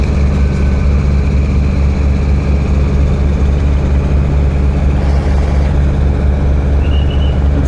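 The passenger launch Prince Awlad 10 runs its heavy engine at a steady loud drone, a deep continuous rumble as it speeds up again, with no voices.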